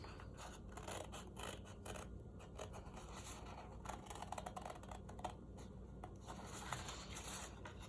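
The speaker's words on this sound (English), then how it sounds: "I'm going to come in with a pair of scissors and I'm going to cut this out." Scissors snipping through a paper coil planning sheet, a quiet, close series of irregular crisp cuts and rustles repeating throughout, with no talking.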